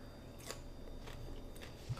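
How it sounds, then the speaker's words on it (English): Close, crunchy bites and chewing of fried cheeseburgers during a mukbang eating session, a few soft crackling bursts at a low level with no talking. "Chew faster."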